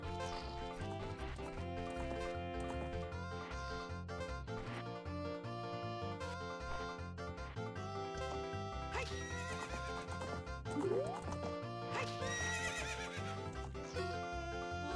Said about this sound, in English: Hi, horsey.